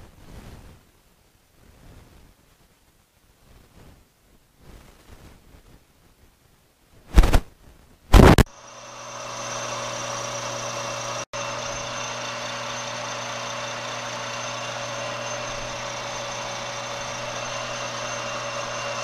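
A metal lathe takes a pass on steel with a carbide insert, shaping a lamp shade support bracket: after a couple of sharp clanks, a loud steady machining roar with a constant whine runs on unbroken with no talking.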